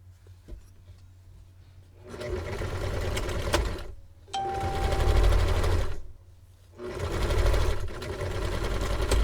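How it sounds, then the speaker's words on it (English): A Kwik Sew k4203 sewing machine re-stitches seams in three loud, close bursts of rapid needle chatter, separated by short pauses. "So now we're just going to take these seams again, and we're just going to re-sew them"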